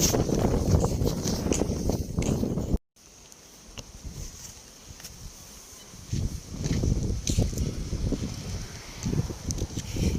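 Wind rumbles against the microphone in steady low buffeting, cutting out briefly near the start, then returning with gusty surges and faint background activity.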